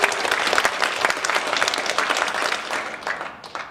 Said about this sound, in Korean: 다 함께 같이 격려의 박수를 한번 칩시다.